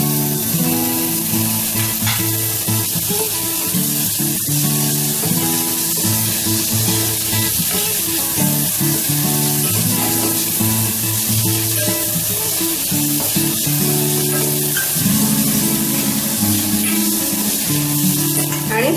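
Tomatoes go into a frying pan with ginger garlic paste, giving a steady, moderately loud sizzle that runs under continuous background music for the whole stretch.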